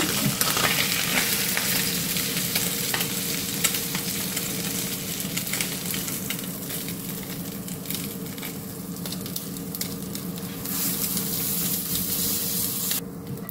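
Spicy Sankara fish fries in hot oil, giving a loud, close and continuous sizzle with crackling spatter and a few stirring scrapes, no one speaking.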